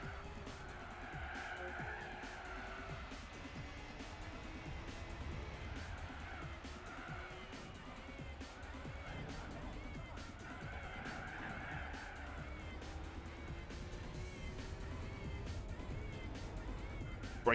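A Renault Clio race car in Gran Turismo 4 drones steadily through rising and falling engine pitch with repeated tire squeal and skidding, a continuous mid-level sound with no voices.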